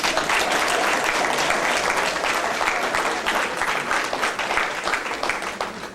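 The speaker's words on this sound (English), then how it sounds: "ask you to please give him another round of applause" Sustained applause from a conference audience at the AfriCANDO 2017 opening session in Miami, a dense, steady roar of clapping for a guest that holds loud throughout, tapering slightly near the end.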